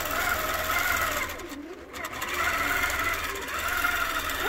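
A Qnique long arm quilting machine from the Grace Company, running automated, stitches a quilt with a steady, continuous mechanical whir that dips briefly partway through before resuming.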